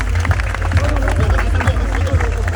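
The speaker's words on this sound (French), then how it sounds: "On peut applaudir bien sûr cette belle équipe de Rodez." Crowd at a Coupe de France football match applauding the Rodez team, a continuous rumble of clapping and crowd noise outdoors with cheering voices and deep low-end wind or rumble beneath.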